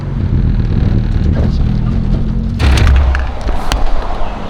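A turbocharged car engine revs loudly up close, a sustained deep rumble with a sharp surge of intake and exhaust noise midway, followed by rattling, popping bursts as the throttle eases.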